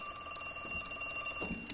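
Inside Joe's apartment in the horror game The Cat Lady, a telephone rings with a continuous trilling bell, a rapid pulsing ring carrying on steadily, moderately loud, with a soft thud near the end.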